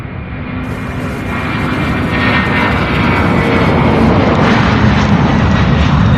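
A jet aircraft climbs steeply after takeoff from Louisville International Airport, a loud, sustained engine roar that swells slightly and holds steady near the listener, with no talking.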